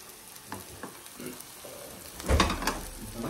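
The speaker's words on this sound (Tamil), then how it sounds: "சூப்பராக முட்டையை உடச்சி ஊற்றிக்கிறாரு." An egg is cracked into a hot pan and fries with a soft, steady sizzle, while clicks and scrapes come in short bursts near the mic.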